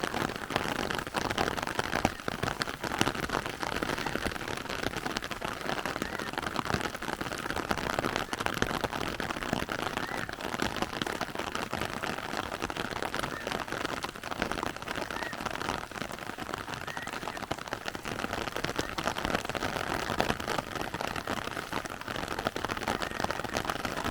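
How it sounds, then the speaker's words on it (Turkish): Heavy downpour of rain in a thunderstorm, a dense steady hiss of drops pattering on surfaces, continuous and fairly close with no letup throughout. "Güzel yağmur yağıyor maşallah halinde."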